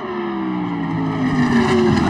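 A Toyota FT-1 Vision GT race car in Assetto Corsa on a San Francisco circuit, its engine a loud steady drone with a note that shifts and sweeps as the car lifts off the throttle.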